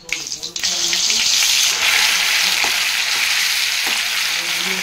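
Ginger paste hits hot oil in a kadai already holding fried mustard seeds, giving a loud, steady sizzle and crackle that runs unbroken after a brief clatter at the start.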